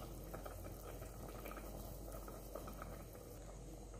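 Pomfret bujan curry gravy simmers at a boil in a pot, giving a faint, steady bubbling over a low background hum with no one speaking.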